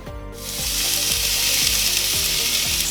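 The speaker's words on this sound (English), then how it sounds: "Let it heat up and then I'm going to add my onions." Loud, steady sizzling of onions frying in hot oil, a dense hiss running throughout with occasional crackles close by.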